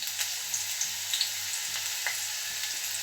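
Sliced onions sizzle steadily in a hot pan on a Mangalorean home stove, a continuous close frying hiss broken by soft stirring taps, with no talk.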